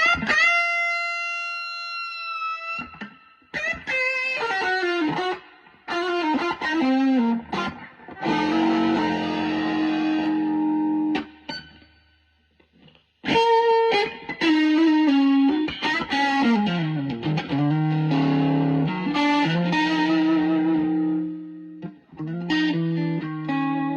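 Electric guitar played through a Fender Hot Rod Deville amp with drive kicked in and reverb turned down, loud distorted chords and riffs in bursts with brief pauses, close and alone.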